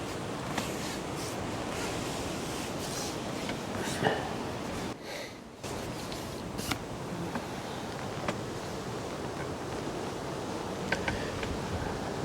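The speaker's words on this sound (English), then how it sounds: "The wind has gone gusty now. It's swirling around the lake." Gusty wind swirls around a fishing lake during a match, a constant rough rush buffeting the microphone with a brief lull midway, while faint clicks and knocks come and go.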